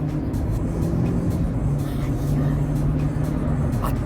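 A Toyota Prius hybrid accelerating, heard from inside the car: a steady low drone of motor and engine that rises slightly, at a moderate level with road noise, and no clear speech.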